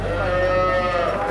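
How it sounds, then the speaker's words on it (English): Cattle, mothers with their calves, are let out onto pasture on a farm, giving a sustained low moo that holds steady throughout, fairly close and loud, over an even outdoor background. "the cattle are finally allowed back on the pasture"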